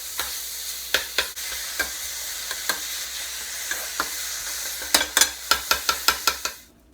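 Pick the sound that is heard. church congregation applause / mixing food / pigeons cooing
mixing food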